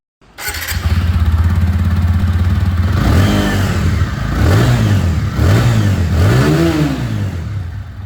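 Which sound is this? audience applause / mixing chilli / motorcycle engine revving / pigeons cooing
motorcycle engine revving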